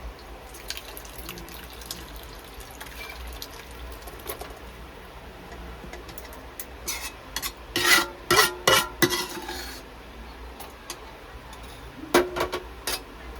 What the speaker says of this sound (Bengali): একটা সুতির কাপড় নিয়েছি, ওর নিচে একটা নেট পেতে নিয়েছি, ঝুড়ি দিয়ে এটাকে ছেঁকে নেব।